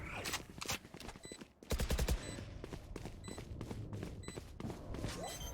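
Gunfire in a 2v2 first-person shooter match, with rapid bursts of automatic fire and sharp single shots in quick succession, fairly faint overall and with no voices.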